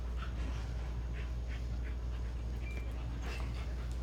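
A tired dog pants hard and steady after rough play, the quick breaths a continuous close rasp over a constant low hum, with a few faint higher whines or yips poking through.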